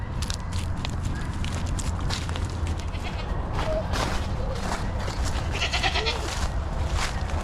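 A herd of goats bleating outdoors as they trail along together, several overlapping calls near and farther off over steady wind and shuffling footsteps.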